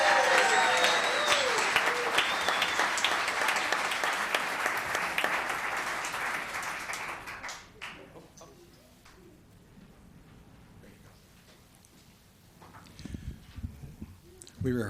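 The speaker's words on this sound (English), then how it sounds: "One more time, applause for our Happy Helpers tonight." A Los Gatos town council audience gives the Happy Helpers a full round of clapping that fades out after about seven seconds, leaving a quieter room with shuffling and faint voices before a few scattered sounds return.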